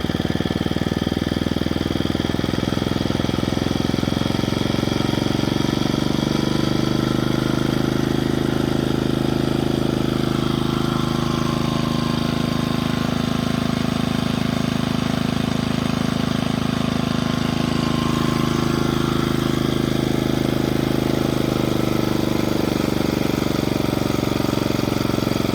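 Rugg Carpet Cut lawn mower engine running steadily and close by, a loud, continuous throaty drone with a slight swell as the throttle is opened up, with no talk over it.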